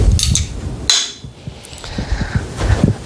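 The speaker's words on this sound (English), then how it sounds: "Dropped my bolt" A metal bolt drops during a small-block Ford engine teardown, giving a couple of sharp metallic clinks and clatters up close in a garage, with faint handling noise after.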